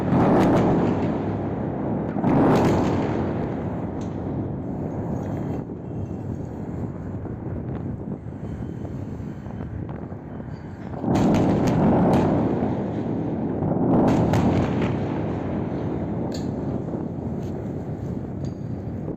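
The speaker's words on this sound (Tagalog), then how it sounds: "Iyan ang tunog ng mga target ng IRGC na tinamaan sa Tehran" Repeated heavy booms and rumbling blasts from military strikes in Tehran roll in from a distance over constant wind noise, with loud bursts recurring across the recording and no speech.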